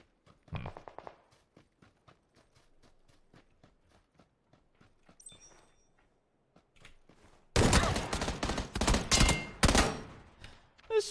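PUBG gameplay: at first, quiet footsteps in a sparse rhythmic series, then a loud, close burst of gunfire that crackles on for several seconds, with only faint background beyond the shots.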